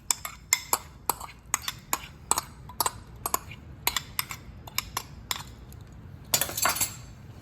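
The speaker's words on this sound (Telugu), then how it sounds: "ఈ సాస్ అంతా ఈ సలాడ్లో మంచిగా మిక్స్ అయ్యేలాగా కలుపుకోవాలి" A spoon clinks sharply against a bowl in quick, irregular taps as a raw papaya and apple salad is tossed with sauce, ending in a brief scraping flurry with no voice over it.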